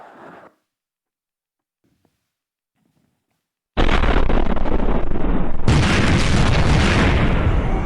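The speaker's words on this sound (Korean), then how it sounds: "이 폭발 소리는 우리 2천만의 함성이다" A bomb explosion effect from a Korean stage drama about Yoon Bong-gil bursts in loudly after a near-silent pause, a sustained roaring blast that swells even louder partway through and rumbles on to the end.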